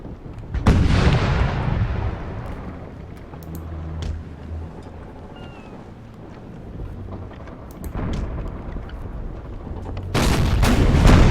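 Naval cannons fire in the Imperial Splendour game during a North Sea sea battle: loud, heavy booms land near the start and twice more near the end, with a rumbling roar of battle between them.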